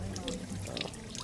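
Water pours and trickles from a public fountain by the canals in Venice, a soft, close splashing stream heard under someone speaking.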